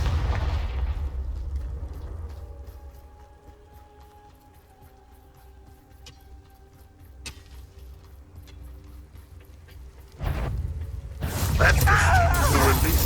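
Confringo blasting curse detonating in Hogwarts Legacy, a sudden loud burst near the end after a long stretch of low game ambience and mechanical ticking, followed by a roaring, crackling fiery rumble.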